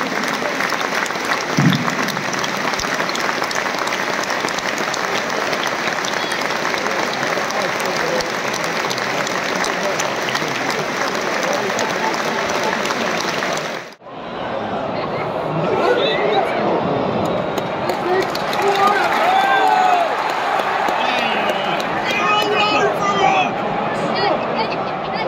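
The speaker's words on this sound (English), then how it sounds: "Please join us now in a period of applause as we celebrate the life and career of a true" Stadium crowd applauding in tribute to a football legend at London Stadium before West Ham versus Manchester City, a vast sustained roar of clapping, then an abrupt cut to nearer crowd noise with chatter over it.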